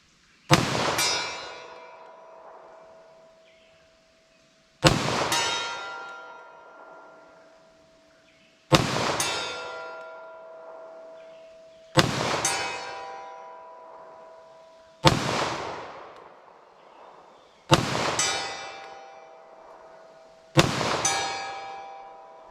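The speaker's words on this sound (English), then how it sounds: "So I shot over the target a couple times, and you know, I was seeing a consistent thing where that steel was doing something" .45 ACP pistol firing Federal Hydrashok rounds at a steel target: seven loud, sharp reports spaced roughly three to four seconds apart, each with a ringing metallic clang and a long decaying echo, no speech.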